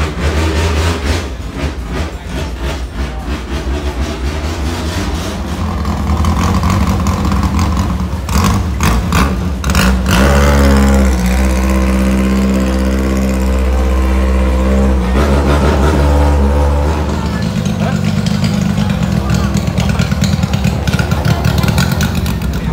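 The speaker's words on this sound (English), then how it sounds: "Boats are quite loud." Loud boat engines chugging along a canal at a traditional Thai market, a close rumbling motor swelling to a heavy steady drone midway and then easing, with no talking over it.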